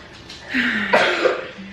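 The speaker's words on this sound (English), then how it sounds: "We have the coughs that won't go away." A single close, fairly loud cough with a rough throaty burst, heard indoors on its own with no talking.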